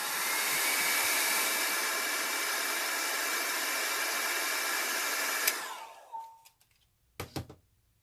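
A hair dryer blows a loud, steady whooshing hum up close while drying an alcohol ink flower painting, then switches off and winds down, followed by a few faint handling knocks.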